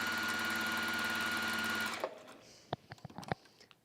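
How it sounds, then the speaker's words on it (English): A sewing machine top stitches down the side of a felt Christmas stocking, a fast, even mechanical whir for about two seconds, then stops, leaving a few light clicks and handling knocks. "We're going to top stitch down both sides."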